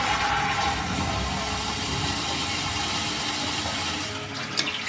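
A Washloo smart toilet in an ensuite bathroom flushes with a steady, loud rush of water that runs the whole time and eases slightly near the end, with a small click just before it stops.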